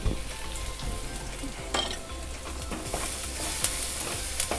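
Ground pepper, cumin and garlic sizzle in a hot pan for village-style dal and pepper rasam, a steady crackling fry with occasional stirring scrapes, close and moderately loud.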